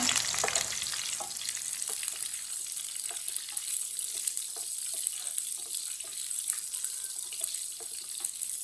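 Steady crackling sizzle of whole coriander seeds and red chillies frying in hot oil for a dal tempering, with faint clinks and stirring sounds scattered throughout at close range.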